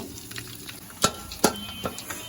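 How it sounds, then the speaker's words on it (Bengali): Raisins frying in ghee in a pan while halwa is made from chana dal, with a low steady sizzle broken by a few sharp stirring scrapes and clinks. "এখন এগুলোকে ফ্রেন্ড কিছুক্ষণ ভেজে নিব"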